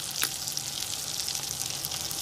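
Bacon Spam frying in a pan, giving a continuous close sizzle with small pops spread through it and nobody talking.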